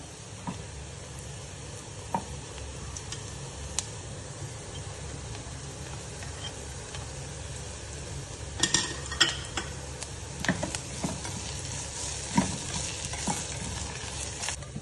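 Freshly grated coconut dry-roasting in a pan at home, giving a steady soft sizzle with intermittent scraping and clinks of the stirring spoon against the pan, closer and busier in the second half, no voices.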